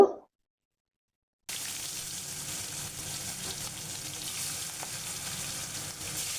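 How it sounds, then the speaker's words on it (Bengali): Pieces of marinated katla fish sizzle steadily in hot oil in a kadai wok for a Bengali lau katla dish, a loud, even frying hiss that starts abruptly after a brief silence and continues unbroken with no talking. "এবার কড়াইতে তেল গরম করে মাছটা একটু লাল লাল করে ভেজে নেব।"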